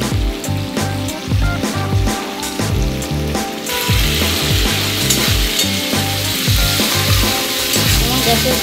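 Food frying in a pan on a gas stove with the flame turned up, a loud steady sizzle and crackle that grows denser partway through, with scraping stirs against the pan.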